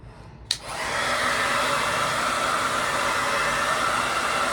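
A hair dryer clicks on with a sharp snap and then blows a loud, steady whooshing roar that runs unchanged to the end, with no voices.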